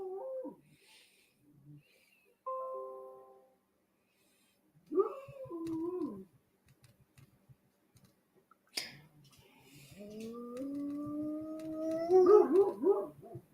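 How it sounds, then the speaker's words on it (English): Guard dogs kept outdoors to protect goats from coyotes bark and howl in scattered bursts, with long drawn-out howls toward the end, heard from a moderate distance over otherwise quiet surroundings. "So if you hear the dogs barking outside, that's what they're doing."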